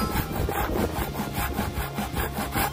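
A hand saw cuts through an old wooden table in rapid back-and-forth strokes, a loud, close, rasping rhythm with no voices.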